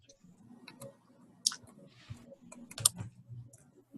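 Typing on a computer keyboard while working in a spreadsheet, with soft, sparse key clicks in short bursts, close by, including two sharper louder taps.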